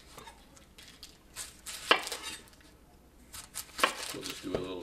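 A knife works on a red onion on a cutting board, trimming and peeling with a few crisp chops and light papery rustles, close by, as people talk over it.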